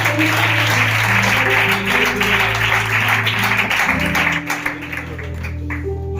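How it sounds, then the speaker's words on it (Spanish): Church congregation applauding during a Spanish-language evangelical service, a dense steady wash of clapping over sustained music chords that drops off slightly near the end. "¿Cuántos aplauden para Él?"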